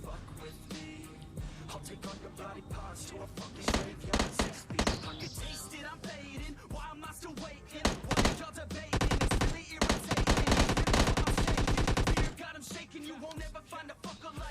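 Uzi submachine gun fire in PUBG Mobile Lite: dense, loud automatic bursts of rapid shots, with one long sustained burst near the middle and shorter volleys around it, no talking.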